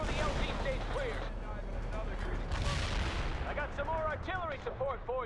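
Artillery barrage in the video game World in Conflict, a dense rumble of booms and blasts with a voice speaking over the fire.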